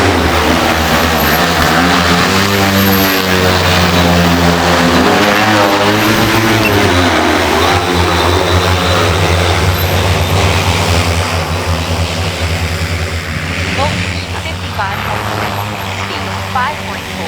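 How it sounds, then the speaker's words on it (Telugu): A 20-litre agricultural spraying drone with a 20-litre tank drones loudly and steadily with a deep propeller buzz, close by and continuous throughout. "20 లీటర్ల డ్రోన్ స్ప్రేయర్ ఆన్ చేయండి."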